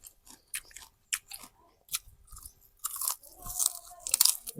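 Fried chicken curry is chewed close to the mic in a run of crisp crunches and bites, sparse at first and then denser and louder toward the end.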